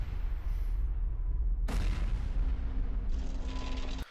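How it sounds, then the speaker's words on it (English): Two flashbang grenades go off one after another in an animation. A loud booming burst hits first, and a second blast follows a moment later over sustained rumbling noise, with no voices. "Double flashbangs."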